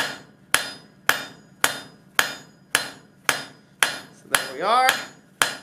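Steady hammer blows forge a metal calla lily stem, about ten sharp ringing strikes spaced roughly half a second apart, close and loud, with a brief voice speaking between blows near the end.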